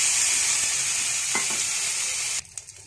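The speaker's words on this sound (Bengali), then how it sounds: "আলু বেগুনটা দিয়ে দিচ্ছি" Fried potato and eggplant pieces stirred into a pan with fried neem leaves, a strong continuous sizzle with a couple of scraping stirs, cutting off sharply to quiet clatter at the end.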